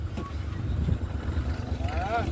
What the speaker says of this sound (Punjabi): ਸੋ ਉਧਰ ਟਰੈਕਟਰ ਚੱਲ ਰਿਹਾ